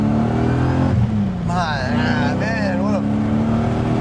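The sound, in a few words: BMW E30 with M60 V8 engine revving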